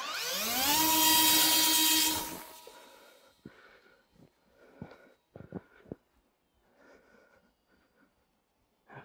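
Electric motor of a UMX Twin Otter RC model plane with 3D printed skis, a loud rising whine through a hand launch that drops away after two seconds, then breaks into faint intermittent buzzes and clicks as it flies off.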